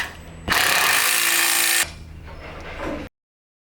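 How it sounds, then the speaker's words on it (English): A power tool tightening the bolts on a Rockarmor bull bar cradle fitted to a Mitsubishi Triton, one loud whirring burst of about 1.5 seconds, then a quieter rattling tail that cuts off abruptly. "So I'm going to go ahead now and tighten up the cradle."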